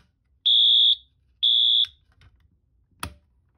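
A fire alarm wired to a pull station without a control panel gives two loud, steady electronic tones of about half a second each, followed by faint clicks and a brief knock.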